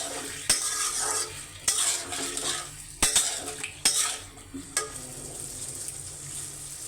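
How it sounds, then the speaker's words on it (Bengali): Potatoes being stir-fried in a pan after fish was fried in it, loud close sizzling with sharp metallic spatula scrapes and clinks against the pan at irregular intervals, no speech. "এখন আমি এটার ভিতরে আলুগুলো দিয়ে আলুগুলো দিয়ে বেশ খানিক আলুটাকে আমি কষাবো সুন্দর করে"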